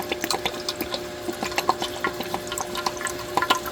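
Worcestershire sauce poured into a cup for beef stroganoff, a close, steady liquid splashing with quick glugging pulses throughout.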